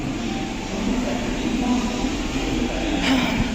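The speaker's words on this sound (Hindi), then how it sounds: "और बाय बाय ट्रेन" Train at a railway station in Kerala, a steady rumbling drone of rail cars with station ambience, moderately loud and continuous, with a brief brighter hiss near the end.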